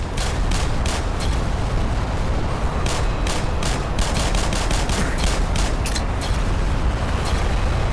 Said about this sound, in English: Shoot in the head in the crystal with the Glock